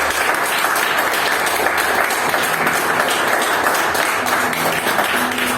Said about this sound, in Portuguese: eu convido você a dar sua melhor salva de palmas para Jesus nesse momento